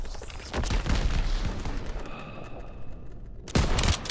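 Dense battlefield gunfire from the Call of Duty WWII video game, a sustained roar of rapid shots and blasts that eases briefly, then bursts back loud near the end.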